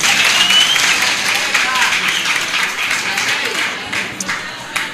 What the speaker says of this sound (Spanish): vamos a darle un aplauso al Señor para recibir la palabra